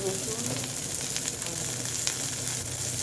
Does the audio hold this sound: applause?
no